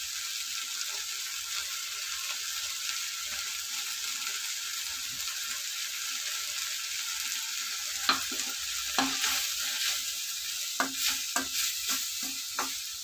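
Ginger and garlic frying in oil for a raw prawn gravy curry, a steady sizzle that gives way to a series of sharp spoon-against-pan stirring knocks in the second half.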